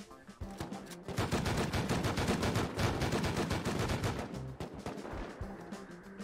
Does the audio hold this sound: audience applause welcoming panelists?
no